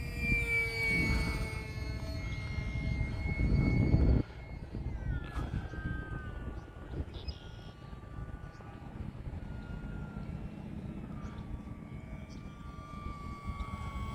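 A small E-flite UMX Pitts S-1S RC model airplane flies at full speed, its thin electric motor whine rising and falling in pitch as it passes, heard faintly at a distance against outdoor background noise.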